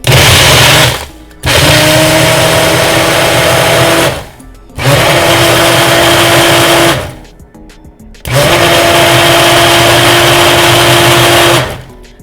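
A Ninja blender pulses a vanilla bean frappuccino in three loud, close bursts of grinding motor roar, each lasting a few seconds and separated by brief silences.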